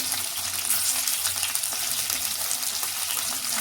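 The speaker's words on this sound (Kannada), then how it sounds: "ಆಮೇಲೆ ಈರುಳ್ಳಿ ಚೆನ್ನಾಗಿ ಫ್ರೈ ಮಾಡ್ಕೋಬೇಕು." Onion fries in a pan with coconut, chilli, cumin and garlic for tomato chutney, giving a dense, continuous close sizzle and crackle throughout.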